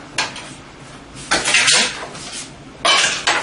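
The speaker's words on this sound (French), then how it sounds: "Alors, je prends la casserole." A metal cooking pot is picked up and handled while chicken in tomato is prepared, giving three sharp, close clanks and rattles spaced across a few seconds, with quiet pauses between.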